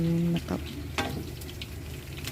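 Kangkong leaves being stir-fried in a pan, with soft sizzling and a few scraping stir strokes, continuous and close with no talk.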